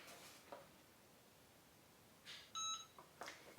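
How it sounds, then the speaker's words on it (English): An EasyPress heat press beeps when its pressing cycle on a bag finishes, giving a short, clear electronic tone after faint rustling and handling noises, with a few soft clicks around it and no talk. "And that's finished when it beeps."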